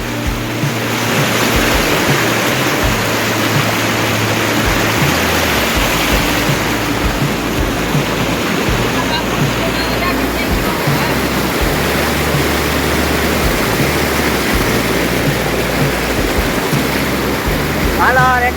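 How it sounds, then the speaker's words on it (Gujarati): A rain-fed stream rushing through a jungle, a loud continuous broadband roar of flowing water close by, steady for the whole stretch. "ચાલો ભાઈ વરસાદના ઝરણાની મોજ લેવા"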